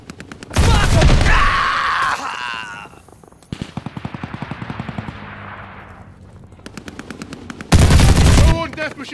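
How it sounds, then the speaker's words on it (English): An enemy Death Machine minigun fires in Call of Duty: Vanguard: loud, very fast continuous bursts starting and stopping, with quieter rapid shot trains between and a brief grunt-like voice. "Got an enemy death machine coming up."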